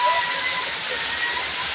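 Tinago Falls pours in a dense, steady roar of falling water while a family bathes in it, constant and close with no breaks.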